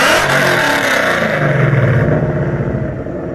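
A car engine revs hard at full throttle through its exhaust, a loud sustained roar near the microphone that climbs in pitch and then eases off at the end.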